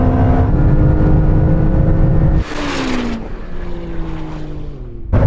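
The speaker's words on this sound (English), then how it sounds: "the electric motors just fill that turbo lag gap and it just takes off" A Ferrari SF90 hybrid supercar launches hard in a drag race. Its loud engine note climbs steadily, drops sharply at an upshift, then climbs again in a long, roaring pull heard up close.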